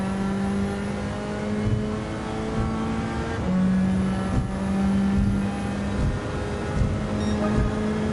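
Racing car engine in Gran Turismo 7, the Silvia racing on a final lap, holding a steady loud drone with pitch shifts as it brakes and accelerates through a corner, close and continuous with no talk.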